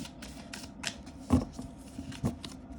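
Tarot cards shuffled for a reading, quiet riffling and flicking in short bursts with a few sharper snaps, close and soft, with no talking.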